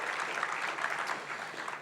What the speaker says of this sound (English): a round of applause for Bill